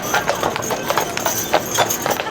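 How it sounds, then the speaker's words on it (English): Hooves of large horses clip-clop on a town street in a steady walking rhythm, loud and close, with faint voices in the background. "There's horsies! They're massive."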